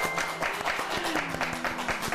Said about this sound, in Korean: 일단 박수 한번 드릴까요?